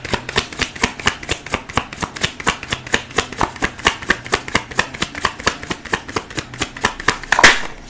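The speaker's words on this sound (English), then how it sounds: "I'm going to give it one more shuffle" Tarot cards are shuffled by hand in a brisk, even rhythm of sharp riffling slaps, close and clear with no voices, ending in a final louder snap.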